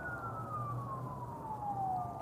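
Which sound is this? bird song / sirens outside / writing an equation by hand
sirens outside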